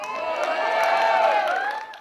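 Women in an audience cheering loudly together, a dense burst of high-pitched whoops and shouts that swells and then tapers off over about two seconds.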